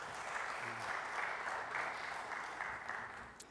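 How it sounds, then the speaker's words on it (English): Conference attendees at an industrialization event clap to welcome a speaker, a sustained, even round of applause heard from a distance that fades slightly near the end. "Can you welcome him with some claps?"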